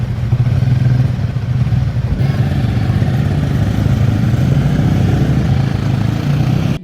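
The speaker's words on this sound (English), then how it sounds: "It sounds a lot like your modern day single cylinder EFI bike that you buy off the showroom floor." A Royal Enfield Himalayan 450 single-cylinder motorcycle engine runs steadily and loud up close, a continuous throbbing drone that shifts slightly in pitch midway, heard alone without talk.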